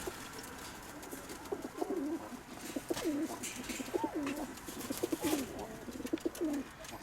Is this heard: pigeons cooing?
yes